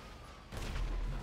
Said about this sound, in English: I'm robbing a store and I hear fucking massive explosions.